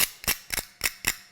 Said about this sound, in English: take a fork and just clear off the back end of this. So you're going to scrape all the zest